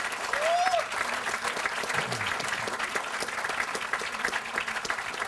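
A crowd applauds steadily at the Tranlin groundbreaking ceremony, with continuous clapping from a moderate distance, a short whistle early on and some voices mixed in.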